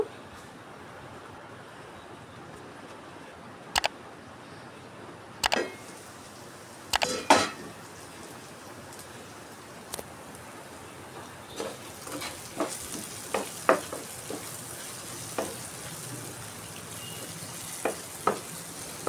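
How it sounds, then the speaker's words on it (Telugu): Onion pieces soften under a lid in a pot for dosakaya pulusu, a faint low simmering sizzle broken by scattered sharp clicks and knocks, with no voices. "మూత పెట్టేసి మగ్గనిస్తున్నాను."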